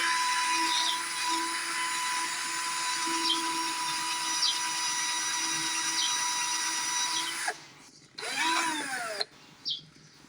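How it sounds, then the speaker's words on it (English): An angle grinder works on a cracked, broken deck, giving a steady high whine for several seconds before cutting out, then two short bursts of grinding with gaps between. "I might have to run the angle grinder on this too."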